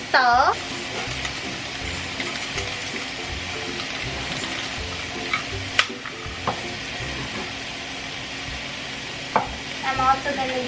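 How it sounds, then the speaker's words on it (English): Pork sauteing in a hot pan, with a steady sizzle and occasional scrapes and clinks of a utensil, fairly close and continuous throughout. "And you're just gonna saute this until the pork is nice and brown."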